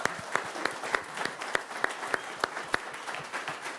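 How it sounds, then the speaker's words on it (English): Audience at a business keynote applauds, a moderate, fairly thin clapping with a few distinct sharp claps standing out in a steady rhythm, heard from a moderate distance. "let's give him a round of applause."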